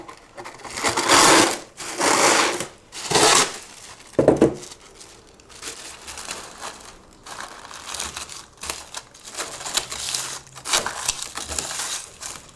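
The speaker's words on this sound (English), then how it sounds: "Now we're just gonna put the plastic wrap over it." Plastic cling wrap is pulled and stretched over a bowl in the kitchen, a series of close crinkling and crackling bursts, some loud and sharp, with quieter rustling between them.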